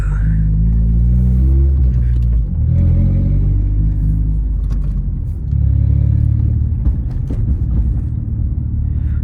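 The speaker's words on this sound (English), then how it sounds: "Sounds like it needs some shocks in the back." An Acura CL with a 5-speed manual and rust repairs rolls back with the clutch in, making a loud, close, low rumble that swells and eases, with suspension thumps from worn rear shocks.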